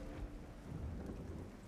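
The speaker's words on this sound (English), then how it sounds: "there's a rumble of thunder overhead and just gentle rain starts falling from the sky" Low rumble of thunder rolling overhead with gentle rain falling, a soft continuous wash of drops under a deep, steady grumble, moderately quiet and without voices.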